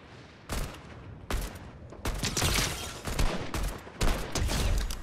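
Bursts of video game gunfire, loud rapid volleys arriving in separate clusters with short pauses between them, no voices.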